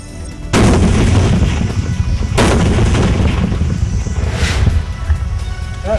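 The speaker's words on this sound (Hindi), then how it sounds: "जब पाक ने जारी रखी फायरिंग तो भारत की ओर से भी की गई जवाबी कार्रवाई" Cross-border gunfire between Pakistani and Indian BSF positions: a dense, loud rumble with several heavy booming bursts rising out of continuous low roar, sounding outdoors and fairly close.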